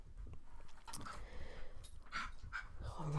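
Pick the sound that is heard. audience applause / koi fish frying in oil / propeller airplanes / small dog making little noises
small dog making little noises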